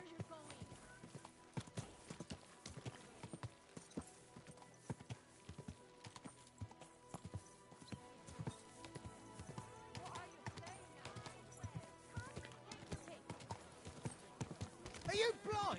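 Horse hooves clip-clopping at a slow walk in the video game Kingdom Come Deliverance 2, a steady rhythmic stream of hoof knocks under ongoing speech and music-like background.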